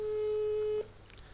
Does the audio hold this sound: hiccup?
no